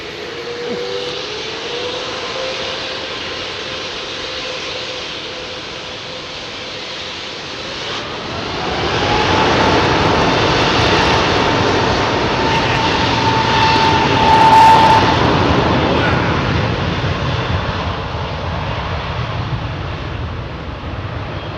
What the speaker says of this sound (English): High-pitched whine that you hear there, folks. It's the tip of the fan blades